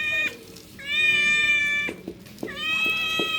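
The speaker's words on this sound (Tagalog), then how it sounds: "Pusa ka ba namin? Putak ingay mo." A cat meowing up close, three drawn-out, insistent meows in quick succession, loud and clear, with a few soft knocks in between and no talking.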